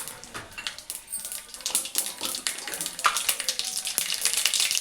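Dry red chillies and seeds crackle and sizzle in three tablespoons of hot oil, a steady close-up frying hiss with rapid popping spatters.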